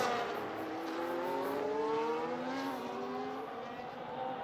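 A Formula 1 style racing car driven by Lando Norris on the final lap at full throttle, its high engine note rising steadily through the gears in a loud, continuous drone with no talk over it.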